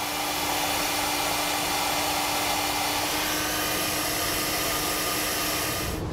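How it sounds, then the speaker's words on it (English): Heat gun blowing steadily as it seals heat shrink tubing over trailer tail light wire connections, a loud, continuous airy roar with a faint steady tone throughout, no voices. "with the heat shrinks, you can come back with a heat source and seal up the ends"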